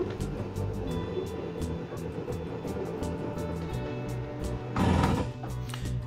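The slide-out of a 2022 ALTA 1900MMK travel trailer runs with a steady mechanical grind and a regular ratcheting click, close and fairly quiet, rising to a louder burst near the end.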